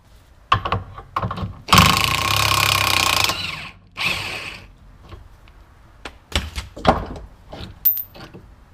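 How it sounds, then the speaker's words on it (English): A cordless impact wrench hammers for a couple of seconds and then again briefly, loud and close, removing a 21mm lower rear shock bolt on a Chevy Malibu, with clanks and rattles of tools and parts around it. "There's a bolt right here, and we can pull that off with a 21mm. I'll just be using my impact to do that."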